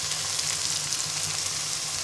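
Onion with garlic and ginger paste frying in a pan gives a steady, close sizzle with a bright hiss that runs unbroken for the whole stretch, with no voices.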